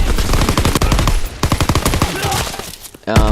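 Rapid automatic gunfire in the Call of Duty WWII beta, a World War II shooter video game, comes in loud, dense bursts. A short gap follows, then another sharp volley of shots right at the end.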